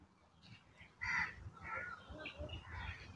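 Crows cawing in a shady park in Delhi, several calls rising at intervals, moderately near and mixed with faint ambient noise.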